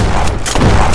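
Loud, dense bursts of gunfire in the Roblox game Jailbreak fill the whole moment, with several sharp booming shots layered over one another and no pause between them.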